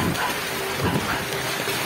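Heavy rain pouring down steadily on a school day, a dense, even hiss of falling water with no voices over it.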